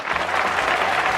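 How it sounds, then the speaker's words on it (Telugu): Audience applause greets a Balakrishna scene in a cinema, a dense, steady wash of clapping for just over a second with no talk. "ఈ సీన్ బాలయ్య బాబు చేశారు కాబట్టి క్లాప్స్ వెళ్తున్నాయి"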